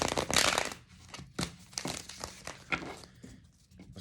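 Tarot cards being shuffled by hand, a papery crinkling and riffling that comes in uneven bursts, loudest at the start and then softer and more scattered, with no talking.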